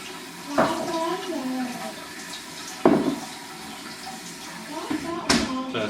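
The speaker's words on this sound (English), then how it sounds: "A little bit of hot water. Heat the spoon up." Hot water runs from a kitchen tap over a metal spoon while an apple tart is being plated, a steady splashing hiss under a person talking nearby, with a few brief clinks.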